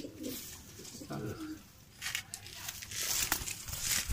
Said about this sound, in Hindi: ये बहुत ही बेमिसाल कबूतर है